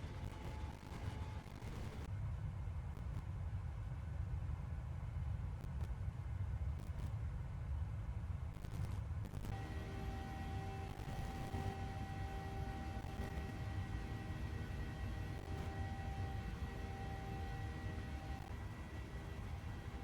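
Steady cockpit drone of a PMDG 737-700 airliner in flight in a flight simulator, with broadband engine and airflow rumble and a tonal hum that shifts partway through, continuous and unbroken.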